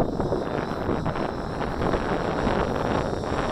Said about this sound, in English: that wind is picking up